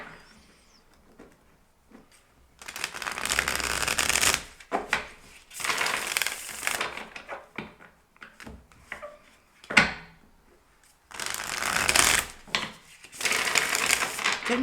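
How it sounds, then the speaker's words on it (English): A deck of tarot cards being shuffled by hand, riffling in several bursts of crisp papery flicks and rustles with short pauses between, close and fairly loud, with no talking. "Let me just first shuffle this deck well."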